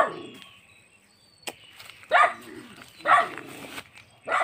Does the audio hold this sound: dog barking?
yes